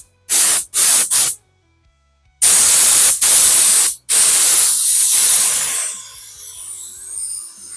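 Spray paint hisses onto the roof of a Volkswagen Bug in close, loud bursts: two short blasts, a pause, then longer sustained passes that taper off into quiet.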